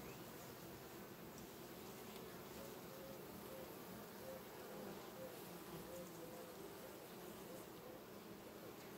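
Honeybees buzzing around the hive in September, a faint continuous droning hum that stays steady and unbroken throughout, with no talk.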